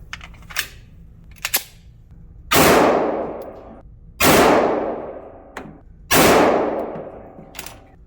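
Three loud gunshots from a Smith & Wesson M&P 9mm M2.0 Performance Center pistol at a shooting range, evenly spaced with sharp cracks and ringing tails, with fainter distant shots and clicks between them.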